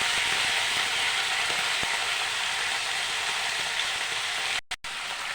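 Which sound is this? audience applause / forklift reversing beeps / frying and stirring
frying and stirring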